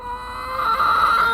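A hen shouts loudly along her food trough in a town back-garden hen run, a sustained close, harsh clucking squawk lasting over a second.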